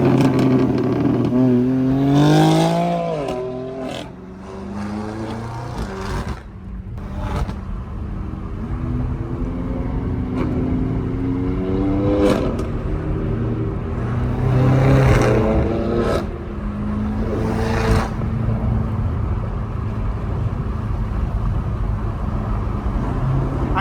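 Straight-piped BMW M car exhausts, M5, M4 and M3 on city streets, revving hard with sharp crackles and pops between rising and falling engine pulls, loud and continuous throughout.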